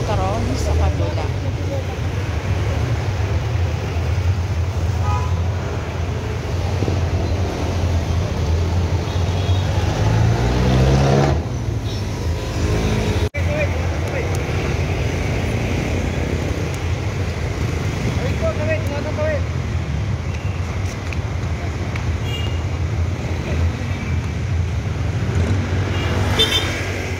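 Heavy city road traffic with a steady roar of cars and occasional horn toots, continuous and close, with a person talking over it.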